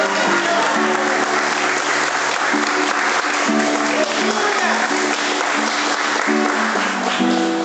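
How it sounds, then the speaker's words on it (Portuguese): A Catholic congregation claps together during a sermon, a dense, steady wash of applause with a low tonal hum running underneath throughout. "Aplauda a Jesus por isso."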